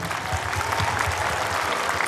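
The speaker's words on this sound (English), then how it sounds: "I would also like to ask our audience for a big applause." Audience applause following a Christmas tableau at a school's senior wing Christmas function, a steady dense clapping crowd filling the hall at close range, with no voices over it.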